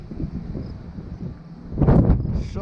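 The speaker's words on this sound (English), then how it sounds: "on a very windy day." Wind buffets the microphone during a recumbent bike ride on a trail, a continuous low rumble that swells into a stronger gust near the end.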